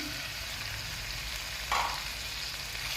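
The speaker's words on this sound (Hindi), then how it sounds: "अब हम इसमें डालेंगे बंद गोभी" Shredded cabbage tipped into a hot frying pan, a sudden louder hiss rising over a steady background sizzle partway through, then settling back to a constant fry.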